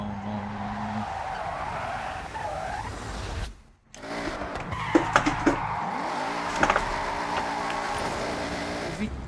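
A car in the Forza racing game drifts under the handbrake, tires screeching and skidding in long squeals with engine noise, broken by a brief silent gap before further squeals and sharp bursts.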